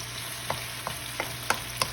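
Noodles with chicken and vegetables sizzle in a pan as a spatula stirs, giving a steady frying hiss with five evenly spaced scraping knocks, close and clear.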